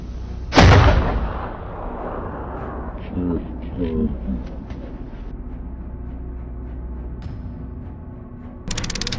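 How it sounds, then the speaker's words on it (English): A single loud rifle shot, fired from 500 meters while hunting wild boar on an early winter trip, cracks sharply near the start and rolls off in a fading echo, followed by quieter rustling. "The shot fired from 500 meters away still hit the target."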